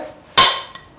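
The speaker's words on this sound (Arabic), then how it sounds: "هجيب الكرنب بتاعي اهو، انزل بيه في البوله بتاعتي" Shredded cabbage dropped into a serving bowl for a cabbage salad lands in one sudden bright clatter, followed by a brief fading rattle and a faint second tap.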